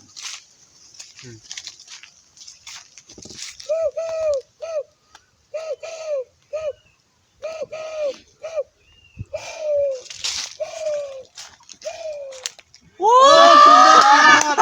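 A voices a string of soft, repeated dove-like coos in short evenly spaced bursts, imitating a dove's call, ending in a louder, harsher outburst.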